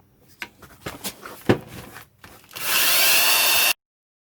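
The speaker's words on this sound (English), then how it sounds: "You'll want to go back over it with the Scotch-Brite anyway once you get done, if you use a wire brush like I'm using." A power-driven wire brush polishing an aluminum distributor housing: some scattered clicks and handling knocks, then the brush spins up into a loud, steady, bright whir held close for about a second before cutting off abruptly.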